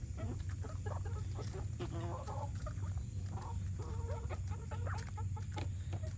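Backyard hens cluck and murmur close by in a steady, busy stream of short calls over a low background rumble, with no clear talking.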